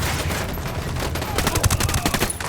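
Sustained automatic gunfire from a firefight in the video game Ghost Recon Wildlands, a dense and loud burst of rapid shots throughout, with a faint voice mixed underneath.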